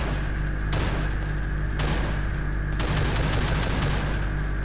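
Semi-automatic weapon firing in the Project Brutality mod for Ultimate Doom, three or four sharp shots spaced about a second apart over a steady low in-game hum, each one clicked off separately.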